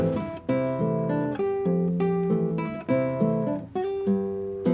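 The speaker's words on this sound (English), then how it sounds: "if you wanted to turn this into an arrangement where you play the melody and you play the chords at the same time" A guitar plays a song as a bossa nova arrangement, melody and chords together: plucked, ringing chord strikes in a syncopated rhythm, close and clear with no talking.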